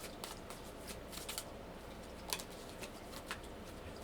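Tarot cards being shuffled up close, a steady soft riffling and sliding with occasional sharper card snaps, quiet and continuous with no voices.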